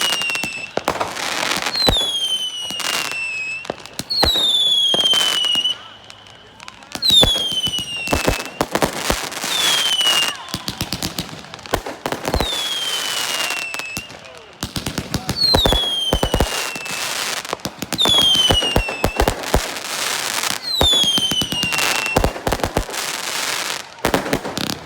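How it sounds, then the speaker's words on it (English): Canada Day fireworks burst loudly and close by in repeated volleys, sharp bangs and crackles with whistling rockets rising between them. "Why is fireworks over here? They're so close to us."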